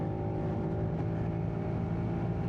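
A TVS NTorq scooter upgraded to 150cc rides at speed, its engine holding a steady, droning hum under rushing wind noise, fairly close and even in level throughout.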